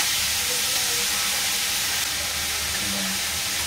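Banana stem fries in a pan with a dense, steady hiss that stays even and loud throughout, with no clear individual stirring strokes.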